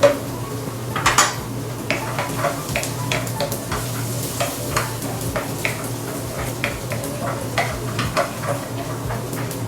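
Minced garlic and onion sizzle in a pan with a steady crackle, and a utensil clinks and scrapes against the metal in an irregular rhythm, close up and without talk.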